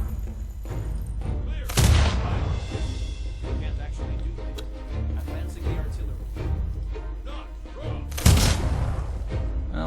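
Gunners firing in the strategy game Humankind, heard as repeated booming shots with two strong blasts standing out over constant battle noise and music, while a voice talks at intervals.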